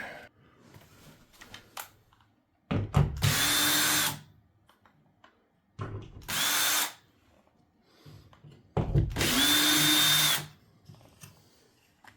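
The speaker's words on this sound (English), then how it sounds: "Basically, I have a countersink bit." A power drill fitted with a countersink bit bores into wood through drywall in three separate bursts, each a loud whine lasting one to two seconds, with quiet handling noises between them.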